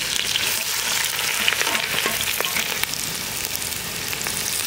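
Mustard seeds crackle and pop in hot oil for a sardine curry, with ginger, green chilli and garlic in the pan, making a continuous dense sizzle scattered with sharp little bursts, close and steady throughout.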